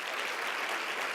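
Audience applauding after a speech, a short dense burst of steady clapping heard up close, with no voices over it.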